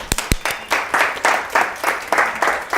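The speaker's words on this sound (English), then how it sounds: "Give her a round of applause." Audience applause at a masterclass session as a volunteer is called to the stage, steady moderate clapping from a room of people, with a few sharp nearby claps at the start.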